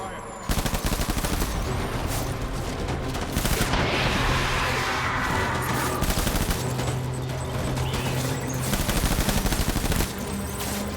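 Gunfire in the Death Stranding video game: a sustained fusillade of rapid machine-gun bursts, loud and continuous for about ten seconds, with a brief lull midway.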